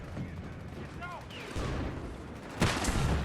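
Video game battlefield with machine gun fire, steady crackling bursts and booms under a continuous dense din of combat noise, with a louder burst near the end.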